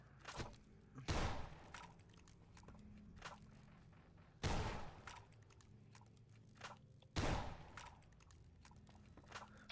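Shotgun blasts in Fallout: New Vegas, three heavy booming shots spaced a few seconds apart at low overall level, with smaller clicks and thumps between them and no talk.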